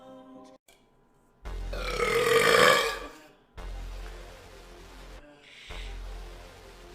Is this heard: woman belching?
yes